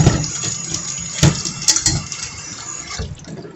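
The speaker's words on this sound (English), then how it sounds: "rinse my pot" A steady stream of running water rinses a pot, close and continuous, with a few sharper splashes and clatters as the pot is moved under the flow.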